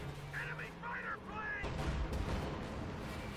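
Artillery bombardment in the World War II strategy game Company of Heroes 2 lands as a heavy, rumbling burst of explosions midway through, with a voice talking over the gameplay just before.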